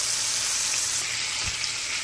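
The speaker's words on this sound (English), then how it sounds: "Use a lot of oil so the fish can sit in the oil." A whole fish deep frying Caribbean style in plenty of oil in a frying pan, giving a steady close hiss and crackle of sizzling with a faint thump partway through.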